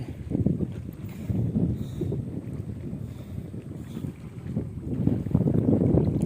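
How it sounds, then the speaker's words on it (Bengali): A boat slowly approaches a river ghat at sunrise on a rising tide. A low, rumbling drone rises and falls under heavy gusts of wind buffeting the microphone, getting stronger toward the end. "এখান থেকে এখন নৌকাটা আসবে"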